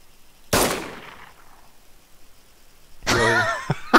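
A single sharp gunshot cracks out in the game Arma 3 Altis Life, followed by a short decaying tail and quiet, then a brief burst of noisy, voice-like sound near the end.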